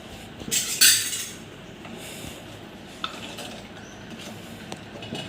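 A spoon stirs ragi java porridge with cardamom in a metal vessel. A bright clinking scrape comes early, then quieter occasional taps against the rim over low background noise.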